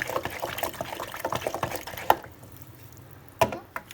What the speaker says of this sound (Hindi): खूब बढ़िआँसँ हम एकरा रहीसँ मिला लेलहुँ हँ।